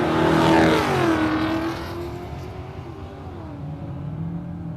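A Holden Statesman makes a drag racing pass at Warwick Dragway, its engine roaring loud and close then sweeping away with falling pitch into a distant drone.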